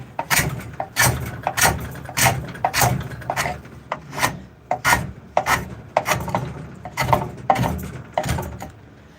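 A Shinto rasp files a wooden spoon in close, rhythmic strokes. Each pass gives a coarse, scratchy rasp, repeated at an uneven, steady pace with no talking.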